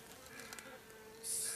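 Local honeybees buzz steadily during a summer honey harvest, a soft continuous hum that grows noticeably louder and nearer near the end, as if a swarm pours out of the hive.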